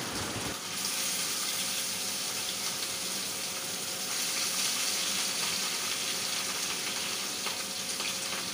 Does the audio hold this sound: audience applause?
no